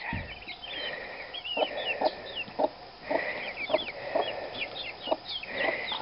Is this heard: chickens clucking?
yes